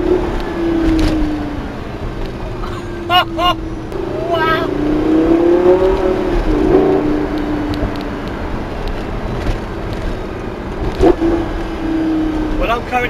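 A 2011 Lamborghini LP560 Spyder in Corsa mode revs loudly through a series of downshifts, the engine note rising and falling with sharp blips and pops, close up over road and wind rumble.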